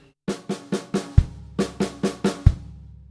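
A drum kit plays a short pattern of snare hits with a bass drum stroke on two beats, sounded twice in a row: crisp, evenly spaced strikes close up, with no voice over them.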